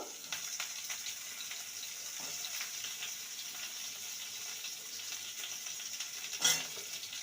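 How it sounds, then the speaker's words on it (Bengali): Pieces of bitter gourd fry in hot oil with a faint, continuous hiss and light crackle throughout, plus a few soft stirring clicks and one brief louder knock near the end. "উচ্ছেটাকে আগে ভেজে নেব"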